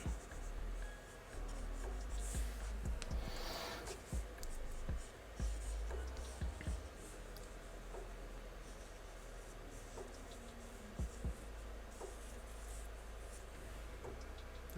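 Pencil or pen strokes scratch steadily across paper while ragged, torn-looking segments are sketched into an anime character drawing, a soft continuous scribbling with occasional sharper ticks close by.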